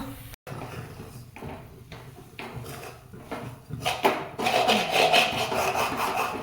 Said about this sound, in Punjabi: ਸਾਰੀ ਦੀ ਸਾਰੀ ਸੂਜੀ ਮੈਂ ਇਹਦੇ ਵਿੱਚ ਪਾ ਦਿੱਤੀ ਹੈ ਹੁਣ ਇਹਨੂੰ ਆਪਾਂ ਕਰ ਲਾਂਗੇ ਮਿਕਸ